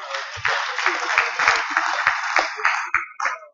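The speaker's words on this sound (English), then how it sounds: "Another round of applause for them." Audience applause after an AGM session at an internet community conference, a steady wash of clapping lasting a few seconds with scattered louder claps, fairly close and without voices over it.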